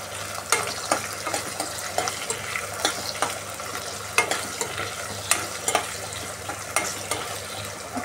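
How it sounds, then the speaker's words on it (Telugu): Curry leaves and a green chili fry in a pan with a steady broadband sizzle, broken by repeated sharp clicks and scrapes of stirring at an uneven rhythm, close and fairly loud with no voices. "ఒక 2-3 నిమిషాలు బాగా ఫ్రై చేసుకున్నాము."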